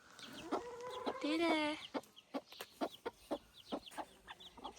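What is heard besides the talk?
chicks and chickens clucking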